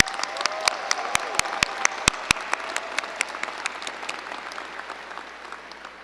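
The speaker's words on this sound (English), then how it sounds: "let's give us a big round of applause" A Lakewood High School graduation crowd claps and applauds, with loud individual claps standing out near the front before the applause gradually thins.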